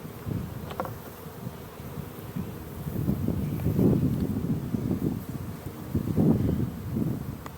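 Honey bees hum and buzz around an open hive during an inspection, a continuous low drone swelling and fading as insects pass close, with light wind and rustling.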